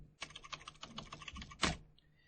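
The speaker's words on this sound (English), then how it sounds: "and then I can just keep typing from there" Rapid tapping of buttons on a calculator while working through a physics problem, a quick, close run of light plastic clicks with a louder double tap near the end, no talk.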